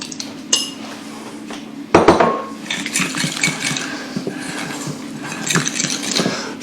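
A fork scrapes and clinks against a bowl while mixing keto bread dough with psyllium powder, producing irregular close metallic taps and scraping with one sharper knock, and nobody speaking.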